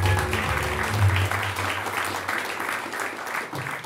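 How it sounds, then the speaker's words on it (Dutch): Audience applause greets the presenter, Louis Gauthier, at a classical music show evening in Amsterdam; a dense wash of clapping holds steady throughout, with a low hum beneath it during the first second. "Graag een warm applaus voor de presentator,"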